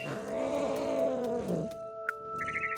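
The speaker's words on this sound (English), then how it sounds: "You can even hear the cat growling and stuff" A low, rumbling cat growl with tonal overtones fills the first half, then fades into quiet ambient tones and a few soft chimes.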